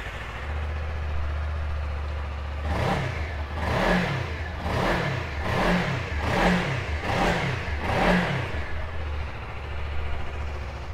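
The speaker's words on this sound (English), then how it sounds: "Give it a quick fire up." A 2018 Suzuki V-Strom 250 ABS motorcycle engine idles steadily up close, then revs in about eight quick rhythmic throttle blips before settling back to a low idle.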